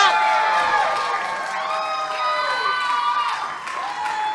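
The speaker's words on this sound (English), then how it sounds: "Crowd goes crazy." Wrestling crowd at a New South Pro Wrestling show erupting into loud, sustained cheering and whooping, with rising shouts filling the arena and voices mixed into the roar.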